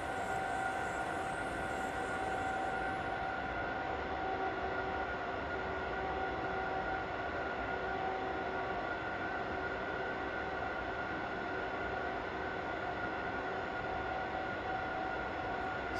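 A train hauling up a steep uphill grade at partial throttle in a train simulator game, a steady continuous rumble with sustained tonal hum, even and unbroken, no talk.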